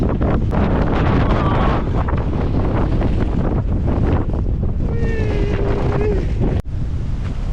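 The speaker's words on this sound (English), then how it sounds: "Jeez, it's so windy!" Strong, bitterly cold wind buffets a cyclist's microphone on the ride back to a campsite, a loud continuous roar and rumble throughout, with faint tonal whines in places and a sharp click near the end.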